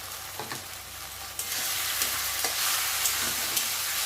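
A paste of ginger, green chili, tomato and garlic sizzles in hot oil in a pan, a steady frying hiss broken by a few scraping stirs of the spatula, close and unaccompanied by talk.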